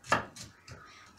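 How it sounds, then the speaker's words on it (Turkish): A few sharp knife chops through an onion on a cutting board, irregular and close, with short pauses between strokes. "Şimdi soğanımı doğrayayım."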